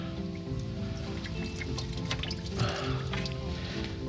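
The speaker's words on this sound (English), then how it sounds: "we got a bucket. We'll let this drain in" Fuel drains from a disconnected fuel line on a 1994 Ford F150 pickup into a bucket, a steady close trickling and splashing over a continuous hum.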